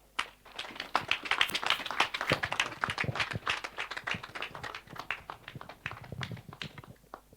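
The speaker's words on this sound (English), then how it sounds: "A big applaud for this wonderful presentation" Applause from a lecture audience after a university public lecture presentation, a dense burst of many hands clapping that swells quickly, holds steady for several seconds, then thins out toward the end.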